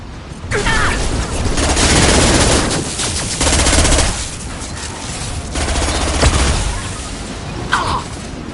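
Sustained automatic gunfire in the Mass Effect 2 video game, loud dense bursts rattling on and off with heavy impacts and brief gaps between volleys.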